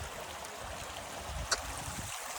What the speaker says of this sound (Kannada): ಇದು ಕಾಡಲ್ಲಿ ಬರೋ ನೀರು ಹಿಂಗೆ ಫ್ಲೋ ಆಗಿ ಹೋಗ್ತಾ ಐತೆ ನೋಡಿ